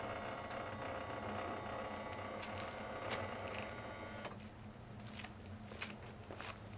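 A small electric headlight adjuster motor in a 2008–2013 Toyota Tundra whirs faintly and steadily, with a few light clicks and ticks close by in a quiet space.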